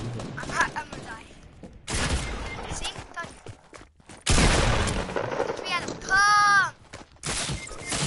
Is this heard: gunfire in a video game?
yes